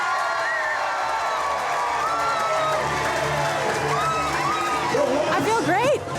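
An outdoor crowd at a corn-eating contest cheers and whoops for the winner, with shouts and excited calls rising toward the end over general chatter.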